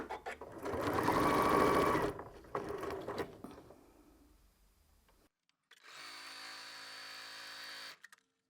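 A sewing machine stitches forwards and back along a cushion seam, giving a loud whirring run, a short pause with softer mechanical noise, then a second, fainter burst of steady stitching before it stops.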